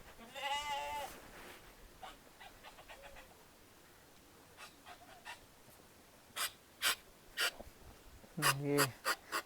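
A flock of sheep near a Himalayan hill fort bleats, one wavering bleat at the start and another near the end, with scattered clicks and voices talking in between.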